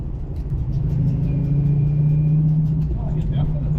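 A 1988 Ford Mustang GT with a V8 and aluminum SVO cylinder heads, driving, gives a steady loud low engine rumble that holds throughout with a rising tone in the middle, while people talk over it.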